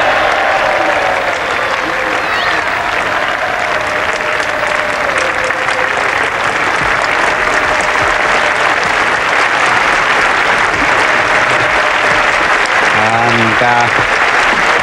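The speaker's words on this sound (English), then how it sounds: "Big applause for the 50 partnership." A cricket crowd at an England Test match applauds a fifty partnership, steady clapping from a large distant crowd lasting the whole stretch, with a commentator's voice briefly heard over it.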